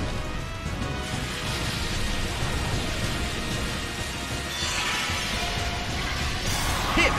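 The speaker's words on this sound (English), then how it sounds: "It's pouring rain in the Colosseum." Steady, heavy rain hisses continuously with a dense, crackling patter throughout, loud and close, with no pauses, falling on the Colosseum in the video game Pokémon Battle Revolution.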